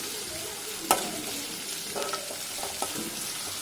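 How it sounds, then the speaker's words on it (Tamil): Onion and garlic sauté in oil in a pan, with a steady sizzle and a few sharp scrapes and clinks from stirring, close and without talk. "பூண்டையும் போட்டு நல்லா வதக்கிக்கோங்க"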